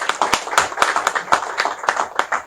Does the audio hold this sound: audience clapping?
yes